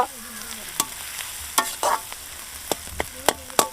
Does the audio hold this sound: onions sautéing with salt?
yes